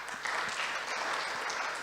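Audience applause fills the hall at a summit closing ceremony, a dense, steady patter of many hands clapping at close range with no pause.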